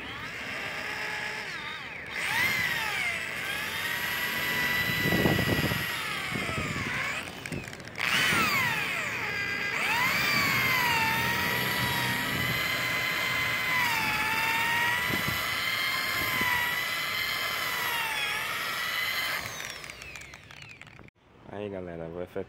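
A polishing machine buffs a freshly painted motorcycle fairing with a steady, loud whirring hum that runs nearly the whole time, shifting slightly in pitch as it works. It cuts out briefly early on and fades near the end.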